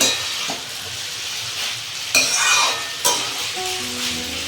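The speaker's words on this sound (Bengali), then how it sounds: "পিঁয়াজটা নিচে ভালো করে ভাজা ভাজা হয়ে গেছে" Sliced onions fry in a pan with chow mein and egg, a steady close sizzle broken by two sharp stirring scrapes and clatters, with no talking.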